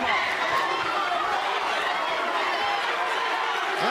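Boxing arena crowd during a bout between Bektemir Melikuziev and Darrius Fulghum, a dense steady roar of chatter and shouting at constant loudness throughout.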